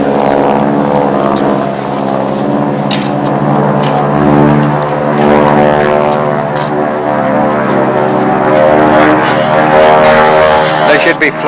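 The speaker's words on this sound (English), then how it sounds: "one of them is an SNJ, the other one is an AT-6, but they're basically the same aircraft" An SNJ and an AT-6 propeller trainer fly past in formation over a WW2 military airfield reunion, a steady, loud droning engine hum held throughout while people talk nearby.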